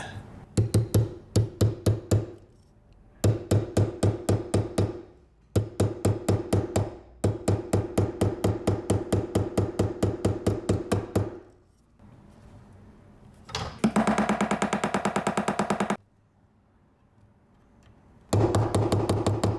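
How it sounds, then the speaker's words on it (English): Rapid metallic hammer taps on a small metal wedge against a gold ring come in fast bursts of evenly spaced strikes, separated by short pauses, close and loud, with one longer buzzing stretch in between. "a little metal wedge that I'm going to use to hammer it"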